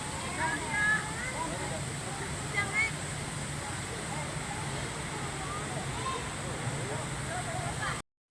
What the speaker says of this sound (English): enjoying the thundering sounds of the water as it plummets and cascades over the rocks